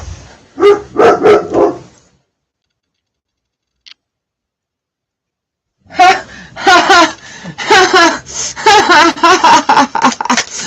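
A dog barks at a neighbor's cat standing in a puddle in the road: a quick burst of loud nearby barks, a silent pause, then a longer run of rapid, insistent barking.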